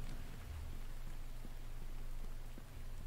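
Steady rain falls in The Infected video game, a soft continuous hiss of drops on a porch and surfaces, with faint scattered taps standing out, no talking over it.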